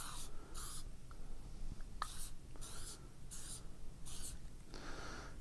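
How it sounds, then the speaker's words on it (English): Liquid penetrant sprayed lightly from a shaken aerosol can onto base metal, several short hissing bursts of about half a second each with brief pauses between them, close and fairly quiet. "we want to spray the liquid penetrant. Make sure the can is shaken well. Spray it, just lightly spray it."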